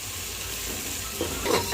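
Onion frying with turmeric in a pan for paneer biryani, a steady close sizzle with a few louder crackles and stirring scrapes near the end, no voices.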